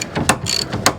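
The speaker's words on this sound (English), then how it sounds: "if I switch my ratchet to reverse" Socket ratchet switched to reverse, clicking in several sharp, separate bursts at close range with no talking.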